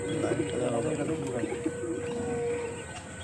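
Female Madrasi pigeon in a loft, low soft cooing under continuous background hum and a bird chirp or two, with a person talking close by.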